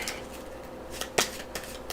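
A deck of playing cards from Dark Souls The Card Game is shuffled by hand up close, giving a quick run of soft riffling bursts with one sharper snap near the middle, no talking over it.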